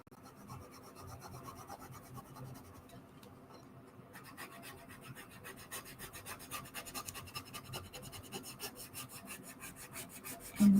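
A stencil transfer tool rubs over a Halloween witch-and-cat stencil, a steady dry scratchy rasp of repeated strokes that grows louder and busier toward the end, close up with no talk.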